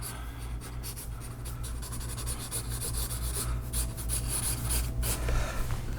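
Eraser rubbing back pencil lines on a drawing of an animal's mane, a steady close scratchy friction with quick repeated strokes and no talking.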